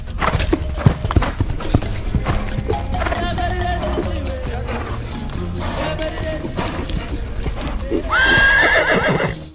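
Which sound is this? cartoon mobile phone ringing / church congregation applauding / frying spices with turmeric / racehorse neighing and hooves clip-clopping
racehorse neighing and hooves clip-clopping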